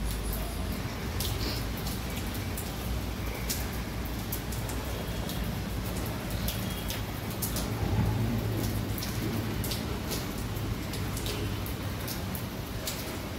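Rain falls steadily in a constant patter, with close drops ticking sharply on a surface and occasional louder splashes, no voices over it.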